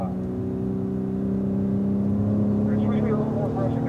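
A Cadillac ATS-V on a race track gives a steady, droning engine and transmission whine at speed, with a slight rise in pitch toward the end and no break in the sound.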